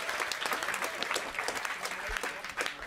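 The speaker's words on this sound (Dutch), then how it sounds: "Fantastisch applaus voor de man van de Homesick." Scattered clapping from a modest crowd, steady and fairly soft, with some voices mixed in.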